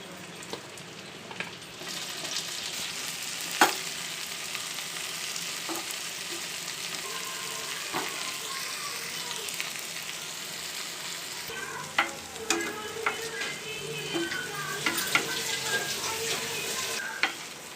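Shrimp fry lightly in oil in a pan for a malai curry, giving a steady, loud sizzle throughout with occasional sharp clinks and scrapes of stirring.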